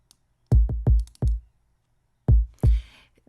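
Clean, subby main kick drum sample for a K-pop boy group beat, struck in short groups of deep booming thumps with a slight upper click, separated by silence, with a brief noisy swell closing out.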